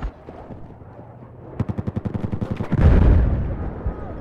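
Rapid gunfire in the Battlefield 4 video game, a quick burst of about a dozen evenly spaced shots building into a heavier, booming blast, loud and close.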